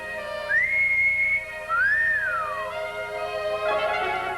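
Wolf whistle in a 1960 film comedy: two loud, clear human whistles, the first rising then held, the second swooping up and falling away, with no talking.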